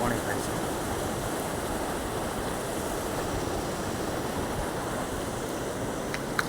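Floodwater after heavy rain of about ten to twelve inches runs across a submerged lake area, giving a steady, broad rushing wash that stays fairly constant throughout, with some wind rumble on the microphone.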